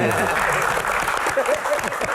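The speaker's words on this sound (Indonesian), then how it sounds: "Tepuk tangan" Studio audience at an Indonesian comedy Q&A show clapping, a steady wash of applause with some voices and chatter mixed in, fairly close and continuous.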